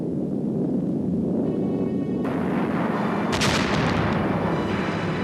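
Dense wartime gunfire aimed at an attacking airplane over Pearl Harbor, a continuous loud barrage of rapid shots and heavy booms with sharper bursts layered on top, no voices.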